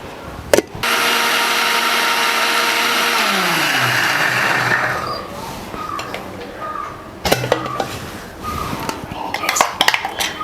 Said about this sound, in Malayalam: അപ്പോൾ നമുക്കിതൊന്ന് അരച്ചെടുക്കാം